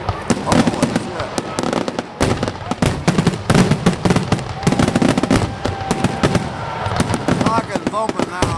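A rapid barrage of fireworks crackling and booming at a 2010 display, dense loud bangs in quick succession, with spectators exclaiming and talking over them.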